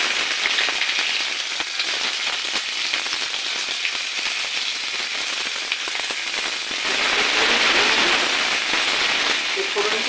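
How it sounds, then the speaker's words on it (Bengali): Onions frying in hot oil with whole cinnamon, green cardamom and cloves give a steady, dense sizzle and crackle throughout, with a brief louder hiss near the end; no talking. "দারচিনি ছোটো এলাচ লবঙ্গ ফোড়ন দিয়ে একটু পেঁয়াজটা ভাজলে খুব সুন্দর স্মেল ওঠে।"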